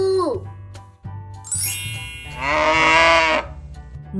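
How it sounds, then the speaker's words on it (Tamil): A single drawn-out cow moo rises for about a second after bright chime and jingle tones, loud and close over a steady low musical backing. "மாடு"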